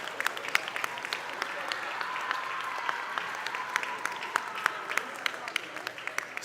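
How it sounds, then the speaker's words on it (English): Applause from a crowd at a FIRST Tech Challenge robotics competition closing event, steady clapping filling the room at moderate distance with scattered sharper claps and some voices mixed in. "another round of applause for the Marlbots from the Martin Division"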